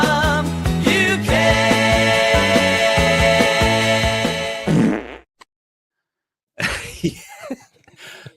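A comedic fart sound effect tagged onto the end of a live news and entertainment show, following a loud burst of music, then a brief pause before a short, sputtering rasp.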